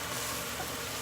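Onions frying in a pan for a sausage, kale and white bean stew, giving a steady, even sizzle that stays close and constant throughout, with no voices.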